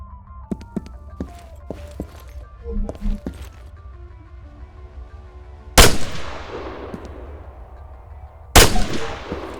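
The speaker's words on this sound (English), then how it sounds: "Now, let's give you something to shoot at. Bang, bang." Gunfire in the ARMA 3 video game: two loud, sharp shots several seconds apart, each with a long decaying tail, preceded by softer clicks and thumps of movement.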